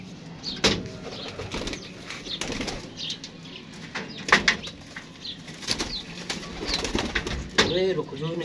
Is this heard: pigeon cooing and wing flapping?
yes